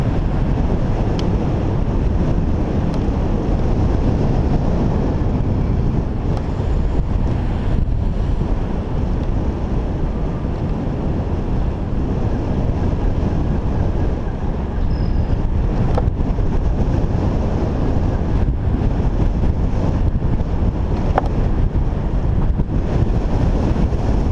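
Strong wind rushing past while riding a Golden Motor Smart Pie ebike, a loud, steady buffeting roar that covers any motor sound throughout.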